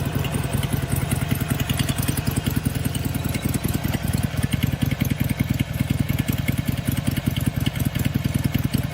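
A 2018 Harley-Davidson Sportster Iron 883 V-twin idles steadily and loudly after an oil change, its rapid rhythmic exhaust pulses continuous and close throughout.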